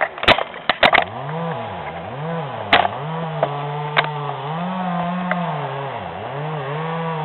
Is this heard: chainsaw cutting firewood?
yes